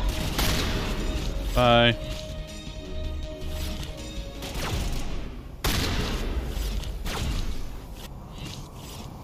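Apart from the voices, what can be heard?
shotgun firing in a video game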